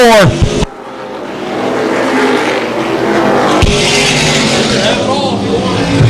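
Modified race cars roaring down the front straightaway at Evans Mills Motorsports Park during a feature race. A loud, sustained engine roar swells and passes close by under a race announcer's commentary.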